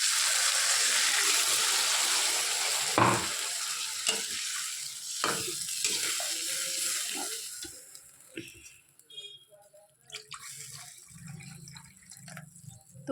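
Potato curry sizzles and fries in a pan, then water is poured in, the loud hiss easing into softer bubbling and scattered stirring knocks as the liquid settles.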